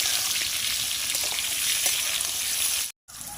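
Pumpkin frying and being stirred in hot oil: a loud, close, steady sizzle with soft stirring scrapes, cut by a brief silent dropout near the end, with no talk.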